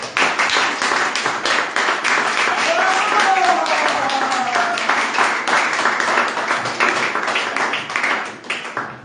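A church congregation claps with dense, sustained applause that carries steadily throughout and tapers off near the end, with a voice briefly rising over the clapping midway.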